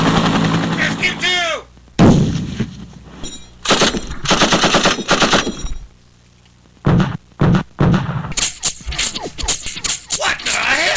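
Bursts of automatic gunfire crack and rattle through a combat scene, loud and close in several separate volleys with pauses between them, and voices come through in the gaps.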